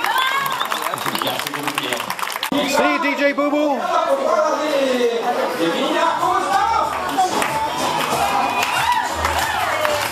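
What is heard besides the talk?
audience applause for the DJ at a family posada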